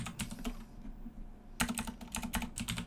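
Someone types JavaScript code on a computer keyboard in quick bursts of close, clicky keystrokes, with a short pause partway through.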